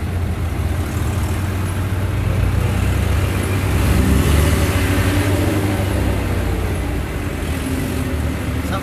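Road traffic heard from inside a delivery truck: a steady low engine rumble and road noise hold throughout, with passing vehicles swelling slightly near the middle.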